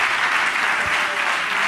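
Dense, steady applause from a live comedy show audience, continuous and fairly loud throughout the short stretch.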